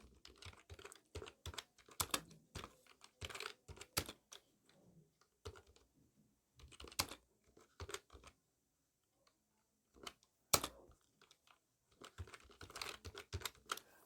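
Computer keyboard typing while entering an address into an Excel invoice sheet, quiet clicky bursts of keystrokes separated by short pauses, close and soft.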